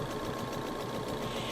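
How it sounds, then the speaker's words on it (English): Close, steady rapid whirring of a sewing machine stitching netting onto a quilt, a continuous mechanical hum with fast regular needle ticks and no pauses. "So I'm just sewing across"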